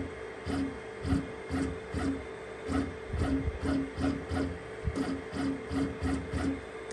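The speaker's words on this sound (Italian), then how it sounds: "Quindi questo è il rumore che fa la stampante per quanto riguarda il movimento." The axis motors of a FLSUN QQ-S Pro delta 3D printer whir in short, repeated pulses with a steady rhythm, each burst a brief rising whine, fairly quiet and close, with no voices.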